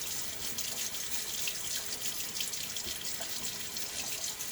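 Water runs steadily from a tap into a sink during a shave prep, hand soap being worked in under the flow; a constant close hiss with no talking.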